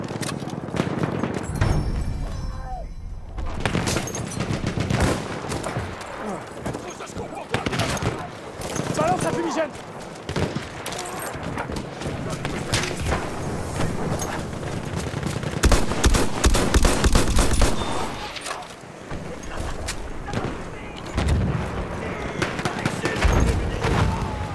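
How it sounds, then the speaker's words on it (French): Enemy machine gun fire in a first-person war game rattles in rapid bursts amid scattered gunshots, booms and thuds across a long stretch, with players talking over the combat throughout. "C'est une mitrailleuse ennemie."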